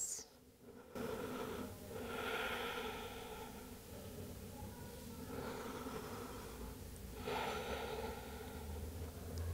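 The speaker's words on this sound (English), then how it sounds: "Take a few nice deep breaths." Deep, slow breathing during home yoga practice: soft, airy inhales and exhales that rise and fall every few seconds, close and quiet, with no talking.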